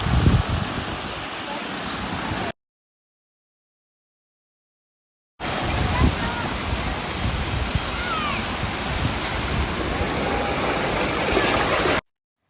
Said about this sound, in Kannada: ಮುರುಡೇಶ್ವರ ಬೀಚಲ್ಲಿ ಇದ್ದೀವಿ